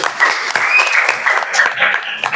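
A classroom audience gives a loud, continuous round of applause for the Japan group after their presentation, dense clapping filling the whole stretch without pause.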